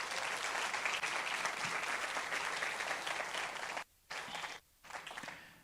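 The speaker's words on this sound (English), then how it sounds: "Let's give them all a round of applause" Audience applause at an annual meeting's closing session, sustained steady clapping from a crowd that breaks off twice briefly near the end before resuming.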